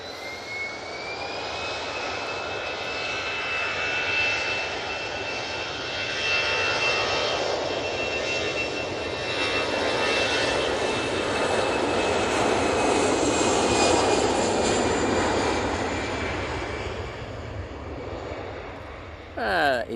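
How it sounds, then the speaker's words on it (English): An EasyJet airliner takes off at Manchester Airport bound for Basel, its jet engines holding a loud, steady roar with a rising whine throughout, heard from near the runway with faint voices in the background. "Easyjet off to Basel."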